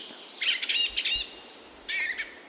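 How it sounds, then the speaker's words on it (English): Birds chirp outdoors in still air near a lake, in two clusters of quick, bright twittering calls separated by a short gap, fairly close over a faint hiss of background. "The stillness in the air with just the birds chirping and the rustling of the leaves on the trees was so refreshing."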